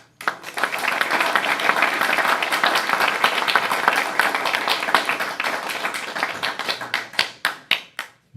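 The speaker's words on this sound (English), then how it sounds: "And once again, round of applause." Loud, dense applause from a crowd at a board of education meeting, steady for several seconds, then thinning into scattered individual claps near the end.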